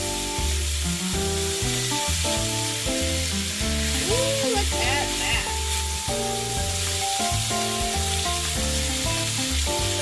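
Brussels sprouts and onions cook down in syrup in a pan with a steady, loud sizzle that runs the whole time, while background music plays over it.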